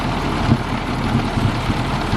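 Tractor engine idling before bush hogging, a steady low diesel rumble with slight rhythmic pulsing, close and loud, with no talking.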